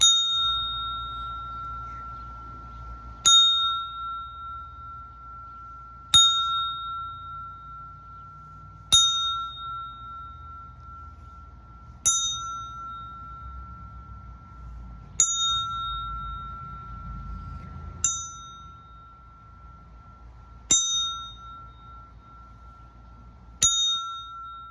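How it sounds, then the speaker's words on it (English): A bell rings ten times at a steady, unhurried pace, each bright ding ringing out and fading before the next, over a low background rumble. "And I'm gonna ring that bell."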